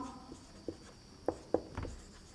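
Marker or chalk writing on a board during a Class 11 physics lesson on vector addition: a few short taps and strokes, close and fairly quiet, in a room with a steady background hum and no talk.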